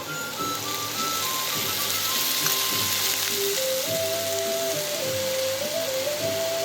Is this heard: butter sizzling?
yes